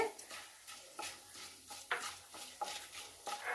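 Fenugreek and spinach leaves with dried red chillies frying in a pan for a menthi-palak fry, soft sizzle under repeated stirring scrapes and light utensil knocks, quiet and close, no voices.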